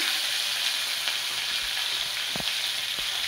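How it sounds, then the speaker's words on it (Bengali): A fish head fries in a pan with a steady close sizzle, punctuated by a couple of brief soft knocks near the end, with no talking. "মাছের মাথা ভাজা হয়ে গেছে"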